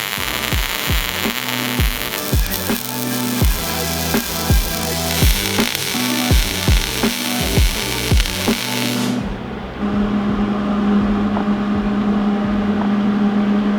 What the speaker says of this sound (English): So now all we need to do is weld up the rest of this.